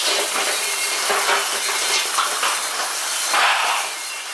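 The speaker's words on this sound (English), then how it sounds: "It doesn't take long to heat up and generate steam." Black and Decker FSMH13E5 steam mop giving off a steady, fairly loud broadband hiss of steam with small surges and crackles, alone without talk, heard outdoors just after rain.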